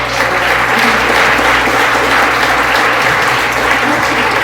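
Audience applause fills a hall after a fortune-telling act, a dense, steady wash of many hands clapping that holds loud and even throughout.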